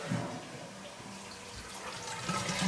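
A low-flow toilet in a brand new home flushes and refills, with a steady rush of running water throughout and a slight swell toward the end.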